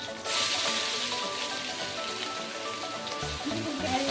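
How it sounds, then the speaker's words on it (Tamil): Mustard seeds pop and splutter in hot oil while chicken kulambu is being cooked, a dense, steady crackle like rain on a surface that continues without pause at close range. "பாருங்க ஃப்ரெண்ட்ஸ், கடுகு நல்லா பொரியுது."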